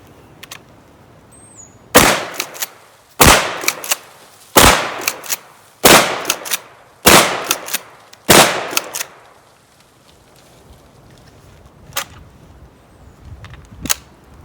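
Six loud, sharp shotgun blasts from a 12 gauge firing Aguila minishells loaded with buckshot, spaced about a second apart with ringing decay, followed by quieter clicks and clatter of the action.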